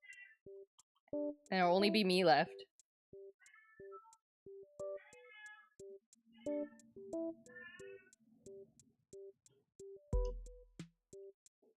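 A cat meows loudly after using its litter box, with one strong, wavering yowl early on, then quieter calls among game-like electronic beeps, while a person talks at times.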